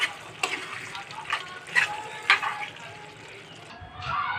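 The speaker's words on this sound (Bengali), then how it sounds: "গরম মশলাটা দিয়ে আমি একটু নেড়ে ছেড়ে দিব।" Beef liver bhuna stirred in a pan after garam masala goes in, giving soft scraping clinks and a low sizzle in short irregular strokes, fairly close, with a light wash of water-like noise near the end.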